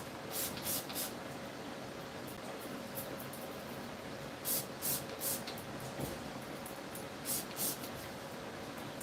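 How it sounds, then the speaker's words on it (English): Finishing hairspray misted onto styled hair, heard as short hissing puffs in small clusters, separated by pauses, over a steady soft background hiss. "now I'm going to definitely add a light"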